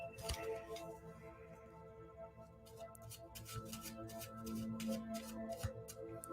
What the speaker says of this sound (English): my shuffling is terrible tonight because I have very numb fingers today